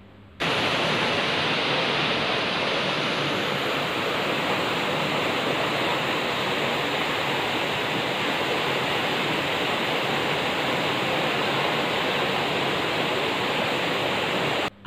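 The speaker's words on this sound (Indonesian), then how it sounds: "tempat tu menarik sebab korang makan tu berhampiran dengan sungai" A river flows beside an outdoor eating area as a constant, full rushing wash of water that holds steady and close, with no voices.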